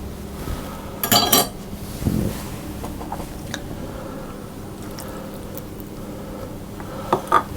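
Milk being mixed into a blueberry sponge cake batter in a bowl: scattered clinks of utensil against the bowl and soft wet squishing, close and intermittent over quiet background, no talking.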